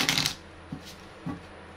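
Tarot cards being handled for a reading, a short close riffle of shuffling followed by two soft, separate taps as cards are set down, quiet and with no talking.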